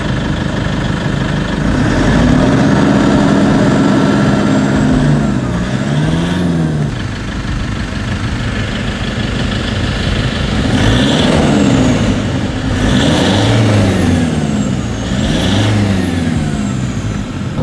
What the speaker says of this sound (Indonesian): suara krek-krek dari mesin